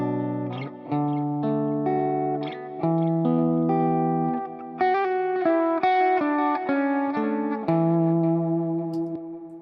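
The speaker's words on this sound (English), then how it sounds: "So I've adjusted my delay and verb to a sound that I like." Electric guitar runs through delay and reverb, a flowing melodic line of overlapping notes whose repeats and tails smear into one another, steady and full, with the sound hanging after each phrase.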